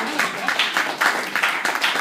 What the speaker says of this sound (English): let's have a round of applause for my parents